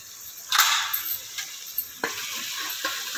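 Onions frying in hot oil for a Telugu-style mutton curry, a steady sizzle with a louder burst of stirring and a few scraping clinks of a spoon against the pan.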